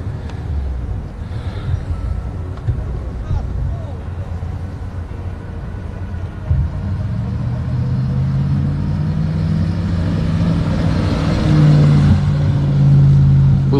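An Audi S4 quattro engine rumbles and revs hard at full throttle while churning through sand, the strain building and growing louder toward the end.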